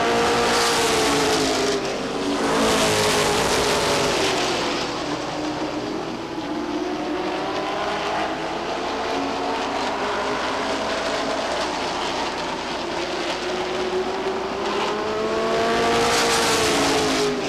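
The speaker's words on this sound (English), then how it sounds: "Less than a lap now for the front 3 cars as they race off the second turn and down the backstretch" Stock cars racing on the Lee Speedway oval: a continuous loud roar of several engines, swelling and fading as the pack passes through the turns and down the backstretch, with no talk over it.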